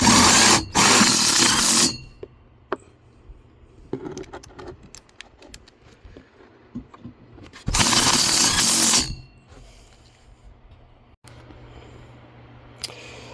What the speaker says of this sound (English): And drive some self-tapping screws in here.